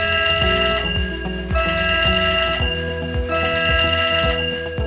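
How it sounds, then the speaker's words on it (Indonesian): An emergency alarm rings in repeated electronic bursts of bright, tonal beeping, loud and close, pausing briefly between cycles. "maka alarm atau sirine tanda bahaya akan berbunyi"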